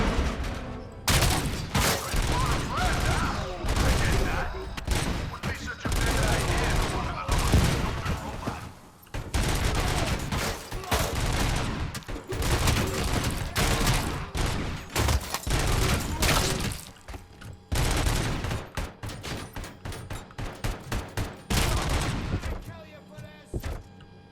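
Sustained gunfire during a fight alongside ED-209 in the game RoboCop Rogue City: dense, rapid bursts of shots and impacts crackling almost continuously for over twenty seconds, loud and close, with brief lulls between volleys.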